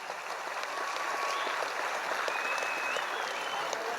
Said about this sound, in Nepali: म उहाँको बिदाईको लागि सम्पूर्ण साथीहरूलाई ताली बजाइदिन अनुरोध गर्छु